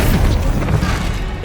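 A Bombarda spell blast in Hogwarts Legacy: one loud, close, booming explosion with a crashing impact that rolls off over a second or so.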